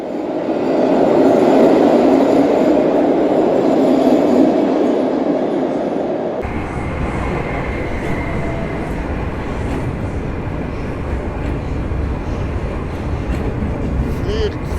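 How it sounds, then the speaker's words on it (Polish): Passenger train with three Polish railway cars rolling through Warsaw, a loud continuous rumble and clatter that stays steady throughout, its tone shifting partway as different cars pass close by. "Będzie tutaj też niespodzianka, podsył trzech wagonów polskich"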